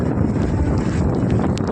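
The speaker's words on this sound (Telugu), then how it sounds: "మనిషిని తొప్పేసేంత గాలి వస్తుంది" Strong wind at a beach in Goa buffets the microphone, a loud continuous roar with gusty rumbling throughout and no voices.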